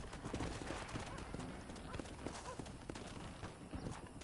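A horse's hooves clip-clop at a steady riding gait in the video game Red Dead Redemption, a quiet, continuous rhythmic patter with a faint outdoor background.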